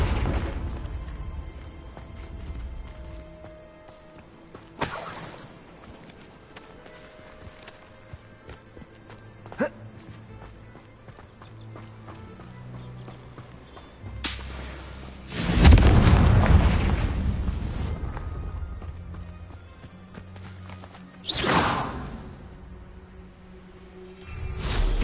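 Fire-spell explosions in the Hogwarts Legacy video game: scattered booming blasts over quiet footsteps and ambience, with one long, heavy rumbling explosion in the middle and sharper bursts before and after it.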